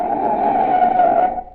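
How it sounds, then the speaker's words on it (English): A car's tires skid under sudden emergency braking, a loud, sustained screech lasting under two seconds that trails off at the end, heard alone with no voices. "That's the sound of a car as a desperate motorist has jammed on the brakes in an emergency."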